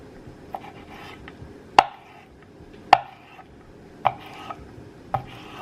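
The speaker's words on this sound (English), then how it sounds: "So you really just want to slice it" Knife slicing calamari into rings on a cutting board, four crisp, evenly spaced chops about a second apart, each a sharp knock with a short fading tail, fairly close.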